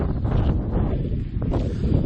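Gusty wind buffets a microphone outdoors on a cold, dry day, a continuous rough rumble and roar with no other clear sounds.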